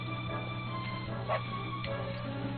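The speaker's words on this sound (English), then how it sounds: "Oh boy, the puppy!" A puppy in the Dragon Quest XI role-playing game gives a few soft, quick yips and barks over a bed of steady parade music, the yaps small and brief against the tune.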